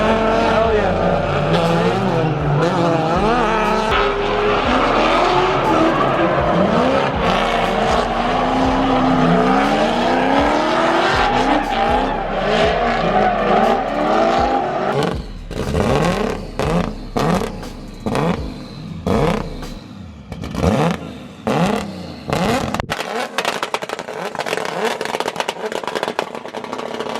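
An LS-swapped BMW E46 M3 drifting, its V8 revving hard with long tire squeals, then a run of sharp bursts and skids as it passes. The car is loud and fairly close, and people talk over it.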